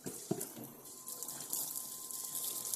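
Water rushes through the plumbing and taps of a Bailey Unicorn Pamplona caravan, run from an external tank to purge trapped air, a steady broadband hiss with a brief sputter near the start.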